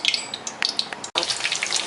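Paneer fries in hot oil that sizzles and crackles with small popping bursts, close up, briefly cut off for an instant before the frying noise resumes.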